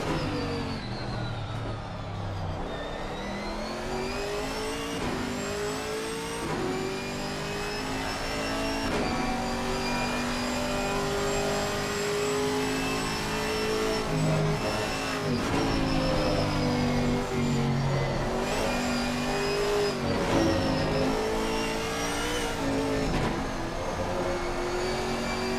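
A 6.2-litre American V8 race car lapping the Austin, Texas circuit in a GT4 race, its engine screaming loud and continuous with rising and falling revs through gear changes and corners, no voices.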